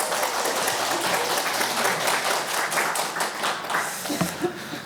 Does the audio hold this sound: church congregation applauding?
yes